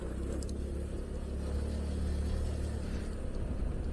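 A car passes on a narrow road beside a tea plantation near a camping area, its engine rumble swelling to a peak midway and then easing off, with no one speaking.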